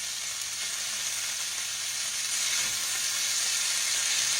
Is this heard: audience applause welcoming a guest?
no